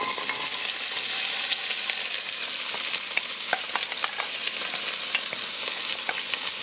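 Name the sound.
sauteing chopped vegetable medley in a pot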